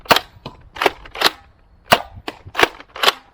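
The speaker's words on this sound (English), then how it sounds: "Do a firing demo of the shotgun Thunderhawk now." A modded Thunderhawk clip-fed pump-action shotgun foam blaster firing mega darts: sharp, loud snapping shots in an uneven sequence, each with a brief pump clack between, close up and without speech.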